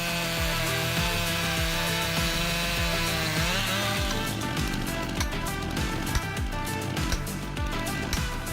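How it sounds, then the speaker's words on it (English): A large 3 HP chainsaw cuts steadily through the trunk of a big tree, its engine roaring loud and close throughout with rhythmic rasping bursts as the chain bites into the wood. "This chainsaw is truly a giant at chopping down giant trees, easily cutting through the trunks of towering giants."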